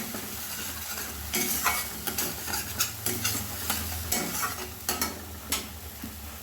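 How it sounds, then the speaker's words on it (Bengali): Spice masala fries in a pan for a Katla kalia fish curry, a spoon scraping and stirring it in repeated strokes over a steady close sizzle, with no talking. "এবারে মশলাটা খুব ভালোভাবে একসঙ্গে কষে নেব।"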